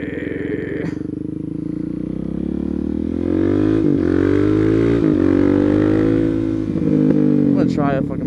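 A motorcycle, apparently a 400SM supermoto, revs up close with a rising, droning engine note while the rider readies a power clutch wheelie, the pitch climbing and falling steadily.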